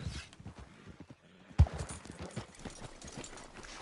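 Horse hooves clip-clop across the ground in the Red Dead Redemption 2 video game, an uneven run of soft thuds with a brief pause and one sharper hit, fairly faint.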